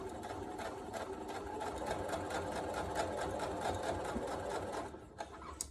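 A sewing machine stitches fabric for a knot hair bow down a straight edge, a close, fast, even whirring run of stitches that stops abruptly near the end.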